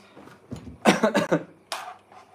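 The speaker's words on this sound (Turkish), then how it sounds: "Bilmiyorum inan öksürük tutuyor beni" A woman rolling stuffed vine leaves in a home kitchen coughs several times in a quick close burst, followed by one more cough after a brief pause.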